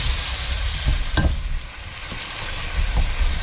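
Grated garlic and a big knob of grated ginger sizzle loudly while being stirred through in a curry pan, with a few distinct scrapes and taps of the spoon over the continuous frying hiss.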